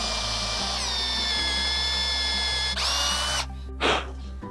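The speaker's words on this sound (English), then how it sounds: "when drilling the first hole" A power drill boring a hole into a log whines loudly and steadily, pitch shifting slightly, then spins down and stops with a short final burst.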